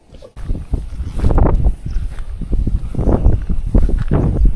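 Wind gusting across Caliraya Lake, a steady rough rumble and buffeting against the microphone that swells and holds, loud and close, with no clear voices.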